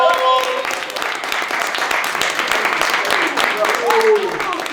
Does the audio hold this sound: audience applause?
yes